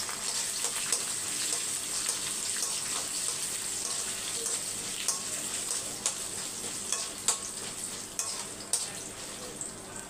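Dried red chillies frying in hot oil in a pan for Karnataka-style tomato rice, a steady bright sizzle and crackle that runs throughout with occasional stirring clicks, close and continuous.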